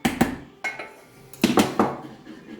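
A utensil working béchamel sauce in a pot, heard as several sharp metallic clinks and scrapes in short bursts, close and loud with no voices.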